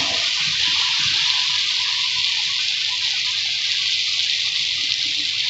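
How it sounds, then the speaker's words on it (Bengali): Water pours into a pan of frying spice paste in a steady, close gush that continues evenly without pause and sounds hissy and bright, with no talking. "এবার আমি জল দেব।"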